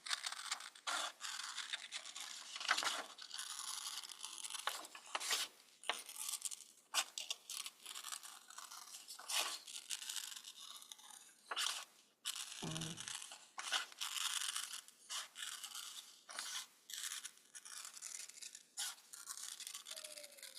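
Scissors cut through a brown paper bag in a steady run of close, crisp snips and rustling scrapes, with paper crinkling between cuts and no voices.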